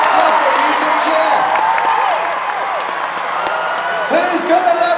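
A large indoor crowd at the London International Horse Show, during a dog agility event, cheers and whoops in a loud, dense roar that keeps going throughout, with voices shouting over it.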